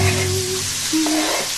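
Eggs and bacon frying in a pan, a steady close crackling sizzle that runs the whole time with no voices.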